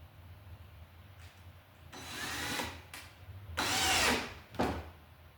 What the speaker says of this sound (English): We'll drill a hole for our green screw.